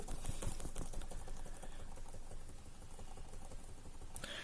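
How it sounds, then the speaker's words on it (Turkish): Rapid, repeated light clicks of the F12 key being tapped on a computer keyboard during startup, quiet and close, an even pattering rhythm with no talk. "Şimdi açışta sürekli F12 tuşuna basıyorum daktilo yazar gibi."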